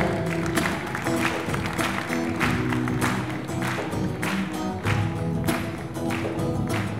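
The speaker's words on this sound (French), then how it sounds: "Il faut applaudir pour la chorale." Applause in a church for the choir: many hands clapping together in a sustained, even patter, with crowd noise and some musical tones in the background.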